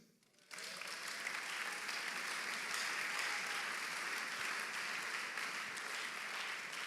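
A church congregation bursts into sustained applause after a brief quiet start, a dense, even wash of clapping that fills the room and continues steadily to the end.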